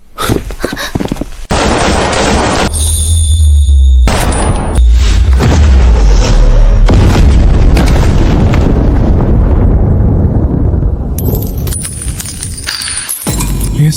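A loud, sustained volley of gunfire in a Chinese drama, dense overlapping booming shots forming a continuous roar for most of the stretch, with no dialogue.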